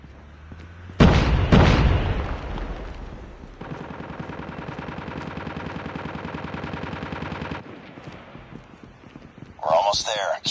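A grenade explosion in Call of Duty Mobile, a loud sharp blast with a brief rumbling tail, followed by a long rattling stretch of rapid fire and another burst near the end.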